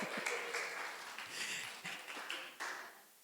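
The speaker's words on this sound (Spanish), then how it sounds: "Demos un aplauso a Dios." Congregation applauding during a church service in Monterrey, faint and somewhat distant, with scattered claps and taps rising in a few brief bursts over about three seconds.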